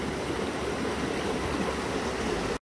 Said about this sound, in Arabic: هذا النهر اللي جنب انترلاكن.